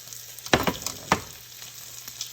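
An egg frying in a pan for a Southern-style breakfast sandwich, a steady soft sizzle broken by a couple of sharp crackling pops close by.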